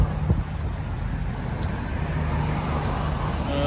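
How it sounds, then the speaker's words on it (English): Steady road traffic noise mixed with wind buffeting the microphone outdoors, a continuous low rumble of passing cars with no voices. "I hope you guys can hear me with this traffic and wind"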